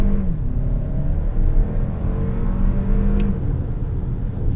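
A 2025 Toyota Crown Platinum Hybrid MAX pulls away hard from a standstill in Sport S Plus mode, giving a steady loud engine and drivetrain drone with a tone that rises as it picks up speed, heard from inside the cabin.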